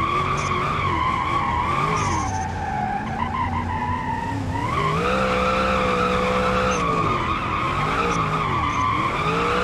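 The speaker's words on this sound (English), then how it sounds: "Drift in the shoulder is crazy!" Sustained tire squeal from a car drifting in BeamNG.drive, loud and continuous with wavering pitch as the slide shifts, engine tone running underneath throughout.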